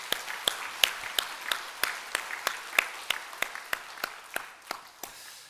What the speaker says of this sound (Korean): 우리 함께 박수하겠습니다